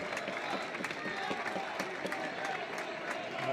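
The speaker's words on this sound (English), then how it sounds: "As the fans give him a round of applause and respect as he comes off." Football fans at a FENIX Trophy match between Lewes FC and FC Oslo applaud a player leaving the pitch, a steady, fairly distant wash of clapping from the stands with crowd murmur.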